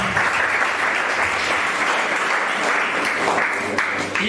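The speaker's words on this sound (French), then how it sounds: "Alors qu'il est en train de monter, l'assistance peut être en train de l'applaudir." An audience applauds at a student law mock trial as a participant walks up, steady dense clapping filling the room close and loud, with no voices over it.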